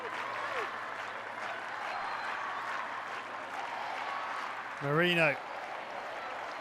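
A crowd at a hockey World League Final match in Rosario applauds and cheers in the rain, a steady wash of clapping behind a commentator's voice, with one brief vocal shout near the end.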